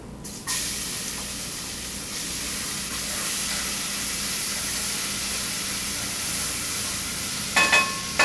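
Chopped onions sauté in rendered salt pork fat for a marinara sauce, a loud continuous sizzle that starts abruptly and holds steady, with a brief clatter near the end.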